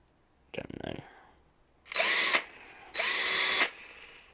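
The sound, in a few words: cordless two-speed hammer drill running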